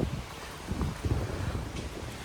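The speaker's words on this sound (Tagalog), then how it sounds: "malakas talagang hangin" Strong wind buffets the microphone in a constant low rumble with gusty surges, loud and close throughout, in Hong Kong just after Typhoon Noul.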